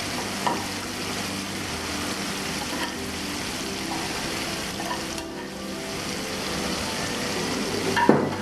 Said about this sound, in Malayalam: ഫ്രൈ ആവട്ടെ, ഇടയ്ക്ക് ഒന്ന് ഇളക്കിക്കൊണ്ടിരിക്കാം.